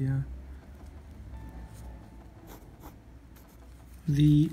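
Pen scratching across paper in a quick sketching session, faint soft strokes running steadily under the room's background, with a voice speaking over it at the start and end.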